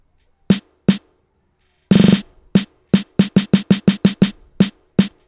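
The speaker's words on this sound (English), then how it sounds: "That's when I added a snare to the log drum," Amapiano log drum layered with a snare, programmed in FL Studio: short punchy hits with a low tonal body, sparse at first and then a quick rhythmic run of evenly spaced strikes, loud and alone.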